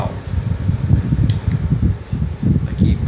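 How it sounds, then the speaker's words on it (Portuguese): An Electrolux EE07F 7500 BTU air conditioner runs in fan mode with a steady, low, broadband whoosh like an ordinary fan. Someone talks over it. "Ele só no modo ventilador. Ele não faz barulho, faz barulho como se fosse um ventilador normal."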